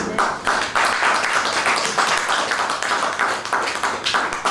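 An audience at a talk claps, a burst of many hands that keeps going in uneven waves, fairly close and loud, with no speech over it.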